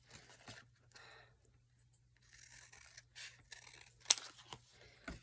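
Scissors snipping through paper for an envelope journal with vintage Santa prints, a few short dry cuts and rasping strokes in quiet bursts with pauses between, close and soft.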